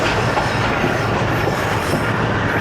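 Awam Express passenger train running through open country on a winter ride, a steady, loud rumble of wheels and carriages with faint clickety-clack and a thin squeal of wheels on rail throughout.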